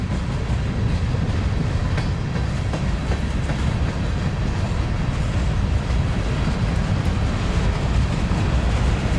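A freight train rumbles past steadily at close range, a continuous heavy roar with faint rhythmic clatter from the wheels and no voices.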